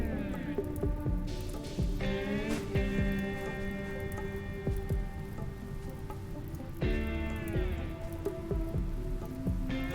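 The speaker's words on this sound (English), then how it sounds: "Thank God it's raining." Steady in-game rain in RimWorld patters softly and continuously, layered under quiet, sustained musical tones that swell and fade.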